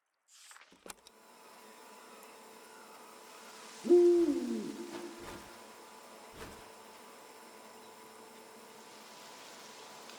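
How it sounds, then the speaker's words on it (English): Owl hooting in the video game A Journeys End, a single clear hoot about midway that fades into a quiet ambient background hum. "This is an owl."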